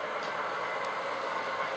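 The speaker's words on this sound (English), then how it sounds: "Here we see a two-car Metro Camel unit on an early morning Wakefield to Bradford working" A two-car Metro-Cammell diesel multiple unit on an early morning Wakefield to Bradford service runs past with a steady, moderately loud rumble and rolling wheel noise. There is no talk over it.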